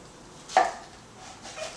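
A knife chops wild pineapple on a cutting board in a kitchen, one crisp close thunk followed by a fainter cut, with no talk.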